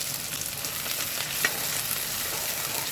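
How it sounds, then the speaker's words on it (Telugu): Chopped onion and green chilies fry in hot oil, a steady, moderately loud hiss with a few light stirring ticks throughout. "ఈ ఉల్లిపాయ, పచ్చిమిర్చి కొంచెం ఫ్రై అవ్వాలండి"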